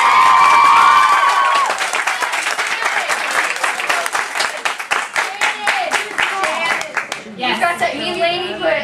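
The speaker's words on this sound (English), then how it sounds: "I have another round of applause goes to Miss Katie Larimer" A round of applause for a student swells from a crowd, loud steady clapping that thins into scattered claps, with a voice and children talking near the end.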